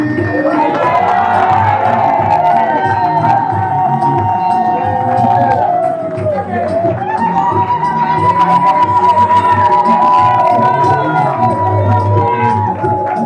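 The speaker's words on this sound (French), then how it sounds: "On applaudit pour le marié" Wedding guests at an official civil ceremony in a town hall room cheer and applaud for the groom, a loud, steady crowd roar with shouts and whoops, while a voice talks over the noise throughout.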